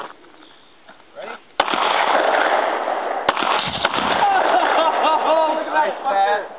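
A propane tank is shot with a pistol from 50 yards. A sharp crack sets off a loud, sustained roaring blast with a few more sharp cracks, then a long rumbling rush, and voices are heard around it.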